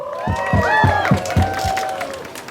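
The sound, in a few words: audience applause and cheering at a rally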